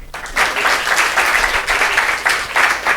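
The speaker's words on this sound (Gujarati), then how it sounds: "આને માટે તાળીઓ પાડીએ." An indoor audience at a leadership development program applauds, with dense continuous clapping that stays loud and close for the whole stretch.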